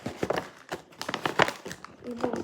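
A plastic gift bag crinkles and rustles in short, close bursts while someone talks over it.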